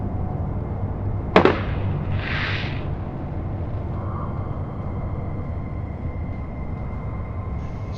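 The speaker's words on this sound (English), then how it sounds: "Now the other thing they introduced was a firework." A firework launches in the space game Space Engineers: a sharp crack, then a rushing whoosh that fades, followed by a low steady hum with no talking.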